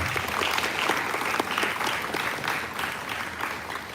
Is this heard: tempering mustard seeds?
no